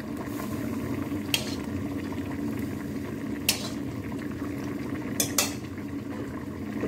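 Shrimp dropped into a pan of ridge gourd curry, with a steady simmering hiss beneath a few sharp metallic clinks of a utensil against the pan.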